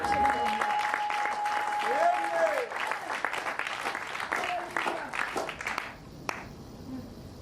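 Congregation applauding in a church service, a sustained ripple of clapping with voices calling and singing over it, fading out near the end.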